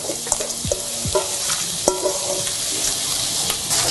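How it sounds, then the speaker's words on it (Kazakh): Onions and carrots sizzle steadily in hot oil for a lentil soup, with a spoon scraping and knocking against the pan as they are stirred. The frying hiss stays close and continuous throughout. "Пиязымызды, сәбізімізді жақсылап қуырып аламыз"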